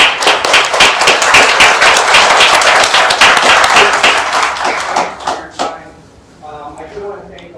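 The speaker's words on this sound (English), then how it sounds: "I do want to please give a round of applause to all of our judges." An audience at a storytelling finals event applauds the judges, dense sustained clapping from a large crowd that tapers off into a few scattered claps and a faint voice at the end.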